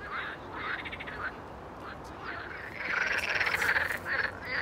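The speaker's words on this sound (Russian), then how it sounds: "Вы слышите лягушек?" Frogs croak outdoors on an evening walk in a dense, overlapping chorus of rasping, quacking calls that pulse in waves and grow louder toward the end, with no talk over them.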